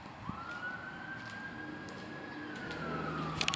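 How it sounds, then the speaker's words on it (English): A distant ambulance siren wails in a long rising and falling tone over outdoor background noise, moderately faint. "Oh, it's an ambulance."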